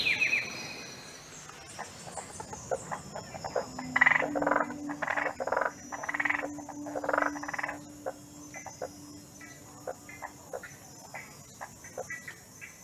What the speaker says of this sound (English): At night, the songs of the forest and the marsh come largely from the male frogs as they serenade the females.